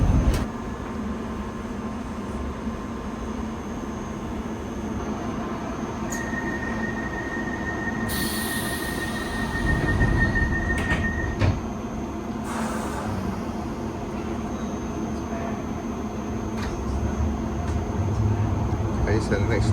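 A London Underground Piccadilly line tube train runs steadily, with a loud continuous rumble of wheels on track, metallic squeals rising midway, and a high electrical whine, heard from inside the carriage with a voice talking at times.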